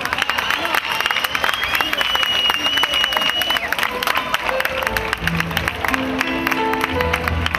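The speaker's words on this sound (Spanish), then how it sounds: "Recibimos con un fuerte aplauso a la representante de Cárcheles" Loud audience applause at the Serranilla de Mágina 2014 pageant in Huelma, welcoming the Cárcheles representative, with dense clapping and crowd noise throughout and music beginning underneath toward the end.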